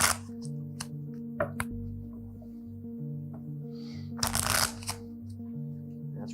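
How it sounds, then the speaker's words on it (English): Playing cards being shuffled thoroughly during a close-up magic act, with several crisp riffle bursts and shorter flutters, quiet and close against a low hum. "Rick, give the cards a shuffle. Mix them up if you would. Really shuffle them pretty thoroughly"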